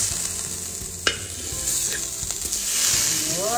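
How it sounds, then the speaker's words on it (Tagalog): Rice fries in butter in a pan for Filipino fried rice, a dense close sizzle with occasional spoon knocks and scraping, steady and unbroken by speech. "Magluluto ako ng fried rice pero ang lalagay ko is butter."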